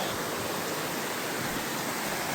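A stream flows beside a hiking trail in the Great Smoky Mountains near Cosby, Tennessee, giving a steady, close rush of water with no breaks.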